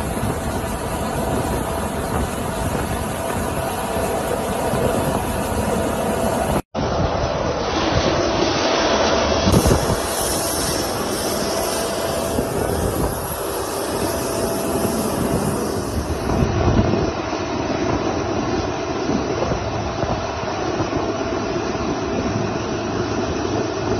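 A broad airplane engine roar and wind rush while a man climbs aboard the plane, steady and fairly loud, broken by a sharp cut partway through, with no speech.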